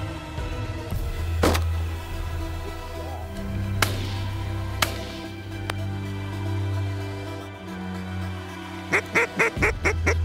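Ducks quack during a late-January waterfowl hunt, with a few loud calls early on and a quick burst of rapid quacks near the end over a low outdoor hum.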